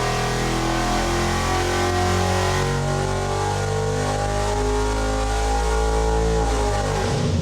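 A Ford 390 FE V8 engine revs hard and continuously under load on a dyno pull, its roar climbing steadily in pitch for several seconds, loud and close.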